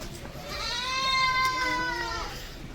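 Young goat kids bleat in a long, wavering, high-pitched cry at a farm housing a new batch of 118 kids, with a lower second bleat overlapping near the end above steady background noise.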